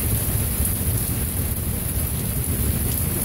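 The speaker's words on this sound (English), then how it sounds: "It's just like one constant thunder going on." Continuous rolling thunder rumbles without pause in a Minneapolis thunderstorm, a loud, steady low roar mixed with the hiss of heavy rain, no voices.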